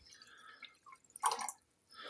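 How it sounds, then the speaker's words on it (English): Water pouring from a Balmuda Moon kettle, heard as a short burst of splashing liquid with faint dripping before and after, close and clear with no talking. "I can pour just a little, or I can pour a lot."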